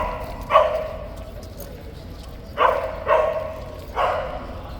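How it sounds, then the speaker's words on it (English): A lifeguard dog barks four times outdoors in short, moderately loud yaps spaced across a few seconds over a low background rumble. "That's a lifeguard dog."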